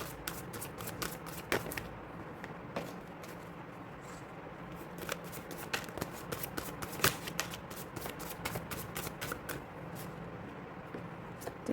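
Chakra tarot cards are shuffled by hand in a steady stream of crisp riffling flutters and soft slaps, close and fairly quiet, with no voices.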